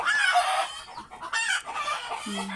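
Several backyard chickens cluck and squawk close by in a series of bursts, with a rooster's crow-like call among them, and no talking over the birds.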